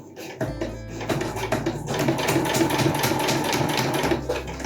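A sewing machine straight-stitches backpack straps, its motor whirring up and running steadily with a fast, rhythmic needle clatter, close and loud before slowing near the end.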